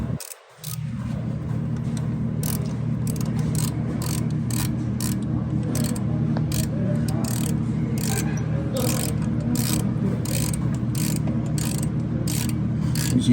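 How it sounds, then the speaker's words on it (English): Torque wrench tightening brake caliper bolts during a brake pad replacement, a steady close mechanical rumble with ratchet clicks ticking throughout, lasting the whole stretch after a brief quiet start. "then we'll start using the torque wrench"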